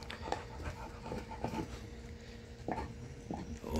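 A dog pants in quick steady breaths while gnawing on a bone, with occasional sharp clicks and knocks from the chewing, close by and without talk.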